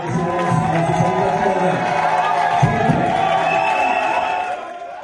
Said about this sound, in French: Sous les acclamations de ses nombreux partisans